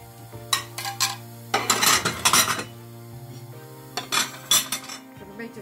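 Plates and cutlery clink and clatter in several quick bursts as plates are put away in a cupboard, with sharp ceramic knocks close by and pauses between handling.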